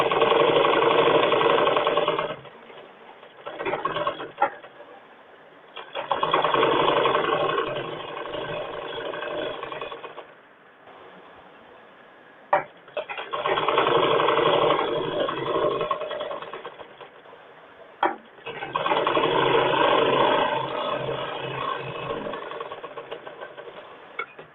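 A sewing machine double-stitches a blouse seam in four long whirring runs of rapid needle clatter, separated by quiet pauses with small clicks as the fabric is adjusted, close and loud.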